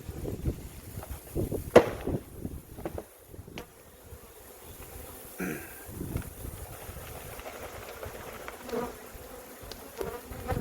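Honeybees buzzing in a steady low drone around an open hive, with individual insects passing close by now and then, plus a few soft knocks and handling noises.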